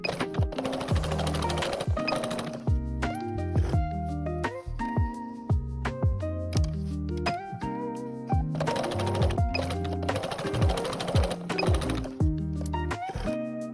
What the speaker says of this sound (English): Using a zigzag stitch, sew both ends to secure in place.